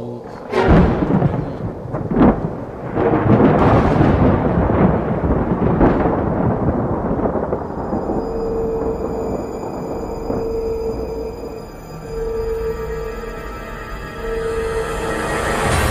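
Loud, deep thunder rolls and rumbles continuously before rain, with heavy booming bursts early on, then a steadier low roar under a faint sustained tone.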